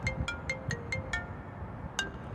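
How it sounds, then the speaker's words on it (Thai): A phone rings inside the Roblox game Escape The Mall Obby, set in a zombie-overrun mall: a quick series of bright, evenly spaced electronic chirps, a short pause, then one more chirp over a low background bed. "โทรศัพท์เข้าโทรศัพท์เข้า"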